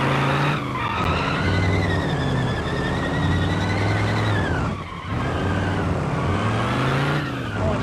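Tires squeal hard on a car drifting in a video game, loud and continuous, with a revving engine under it. The engine note rises and falls in sweeping waves, with brief dips between slides.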